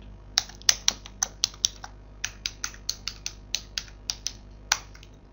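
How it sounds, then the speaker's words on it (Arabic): Someone types a password on a computer keyboard, a run of about twenty crisp, close key clicks in an uneven rhythm with short pauses between bursts, in a quiet room. "اكتب كلمة السر ونضغط انتر"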